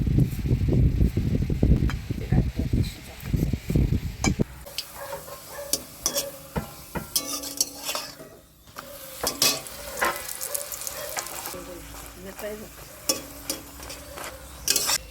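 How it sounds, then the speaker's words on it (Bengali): Ameshwari luchi, puris made with ripe mango, fry in hot oil with a continuous close sizzle, interrupted by stirring and scraping clicks and brief louder bursts of bubbling. "ভেজে নিচ্ছি আমেশ্বরী লুচি"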